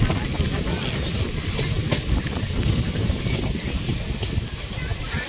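A train travelling from Bongaigaon in Assam rumbles with a dense, continuous low roar and wind rush past the open window, loud and close throughout.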